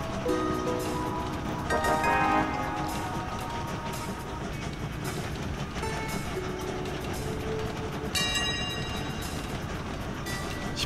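Trains run through the Train Valley video game, a steady rumbling rail bed with rolling clatter, bright tonal chimes and whistle-like tones rising over it around the two- and eight-second marks, continuous and fairly loud with no voices.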